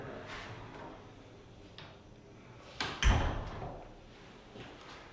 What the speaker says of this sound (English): I'm gonna close the door and give you a nice 360 of the bathroom here.